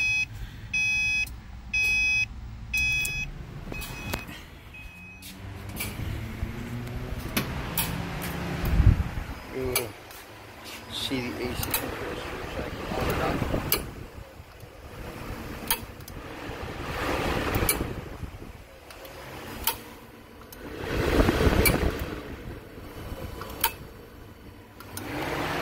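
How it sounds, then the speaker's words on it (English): Radiator fans on a Subaru cycle on and off with the AC compressor, giving a fluctuating whirring hum that rises and falls in waves. It is mixed with intermittent beeps and clunks, and a person talks over parts of it. "complains that the fans cycle on and off with the AC compressor"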